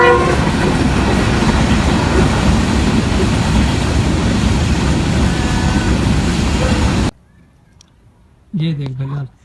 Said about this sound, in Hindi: और ट्रेन भी एक आ रही है, देखिए।